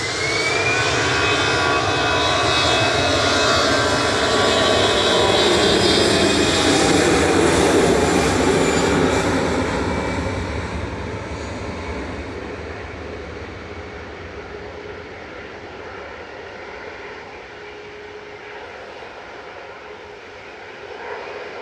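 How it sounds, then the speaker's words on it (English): An easyJet airliner, flight 2161 bound for Amsterdam from Manchester Airport, roars loudly with a rising engine whine that peaks and then slowly fades as it moves away, leaving a lingering rumble. "EasyJet to Amsterdam now, flight 2161"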